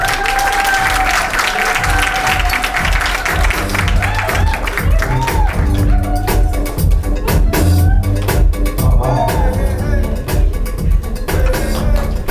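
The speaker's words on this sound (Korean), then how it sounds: "뜨거운 박수로 모시겠습니다" A lecture hall audience breaks into warm, sustained applause for an arriving speaker, a full crowd of clapping that swells and holds throughout, with faint voices and stage sound mixed in early on.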